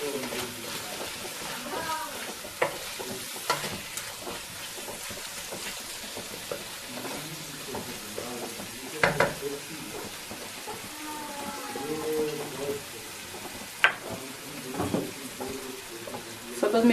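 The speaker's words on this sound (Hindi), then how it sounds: "नमक को मिक्स करते हैं।" Mutton liver masala stirred in a pan after salt is added, with a soft sizzle, scraping and stirring clinks, and a few sharper knocks, close by under occasional talk.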